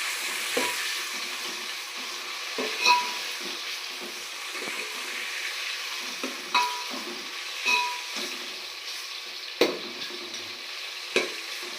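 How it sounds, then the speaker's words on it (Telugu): Onions and tomatoes frying in a pan for chicken pulao, a soft steady sizzle broken by repeated clinks and scrapes of a stirring spoon. "ఉల్లిపాయలు అయితే వేగిపోయినాయి ఇప్పుడు ఇందులో టమాటా వేసుకుందాం"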